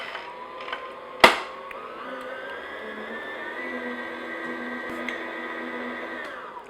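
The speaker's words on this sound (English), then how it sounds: "I'm just going to beat this in medium-low speed" An electric mixer beats Basque cheesecake batter at medium-low speed, giving a steady whirring motor drone after a sharp clack at the start, close and constant until it winds down at the end.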